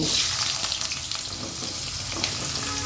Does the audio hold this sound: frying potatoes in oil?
yes